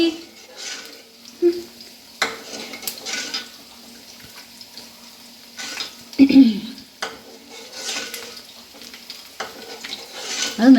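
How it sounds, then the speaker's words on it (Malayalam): Chicken frying in a pan, faint sizzling and spluttering with occasional clinks of a utensil and a few short pops, voices heard briefly. "ഇപ്പുറത്ത് ചിക്കൻ പൊട്ടിത്തെറിക്കുന്നു."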